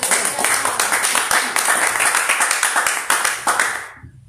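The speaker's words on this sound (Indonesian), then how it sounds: "Beri tepuk tangan begitu." A church congregation clapping hands together during a sermon, a loud rhythmic run of claps at a steady beat that gradually fades out at the end.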